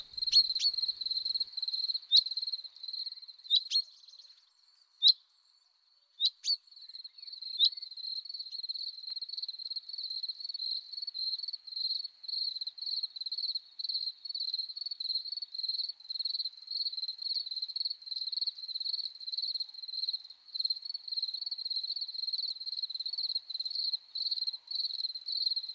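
Field cricket singing in grass, a steady, sharp, high trill that runs almost continuously with a few brief breaks, close and clear against otherwise quiet surroundings.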